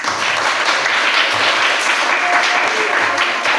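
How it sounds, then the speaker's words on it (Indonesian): Students in a classroom clap together during a math lesson, a dense, steady applause filling the room at close range for a few seconds with no talking over it. "Tepuk tangan untuk semua."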